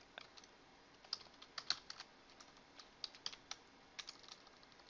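Computer keyboard typing a short text correction in captioning software: quiet, irregular clusters of light key clicks with brief pauses, close and alone, no talk.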